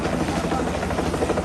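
Rescue helicopter over Nepal floods, a loud, close rhythmic rotor thudding with an engine drone beneath, steady and unbroken through the brief moment.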